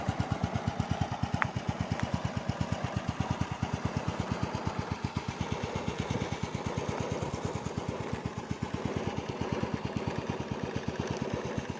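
A Honda Wave 100S motorcycle engine runs steadily throughout, its rapid even pulses close and fairly loud, a brief higher click near the start.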